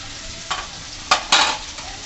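Chopped onion with ginger-garlic paste sautés in a pan, a low steady sizzle punctuated by three quick scraping stirs of a utensil, close up and without any voices.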